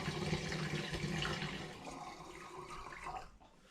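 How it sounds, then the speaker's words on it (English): A dissolved brew sugar and IRN-BRU mixture is poured into a cider container for turbo cider, giving a close, steady liquid gurgle and splash that tapers off at the end, with no talking. "it's simply a case of pouring this in as neatly as possible."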